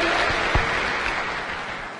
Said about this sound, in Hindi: हमारे सिस्टम के लिए और हमारे सिस्टम के फाउंडर लीडरों के लिए जोरदार तालियां होनी चाहिए दोस्तों